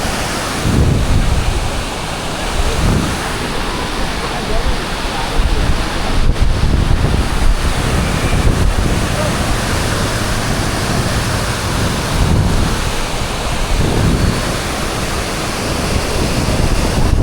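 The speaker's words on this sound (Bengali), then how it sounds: "কি স্রোত!" Strong current of flood water rushing past, a loud, steady broadband roar with surging swells and heavy wind buffeting the microphone throughout.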